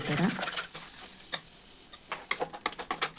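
Bitter gourd and egg stir-fry stirred in a pan over a low flame, soft sizzle with a run of light spatula scrapes and taps, faster toward the end.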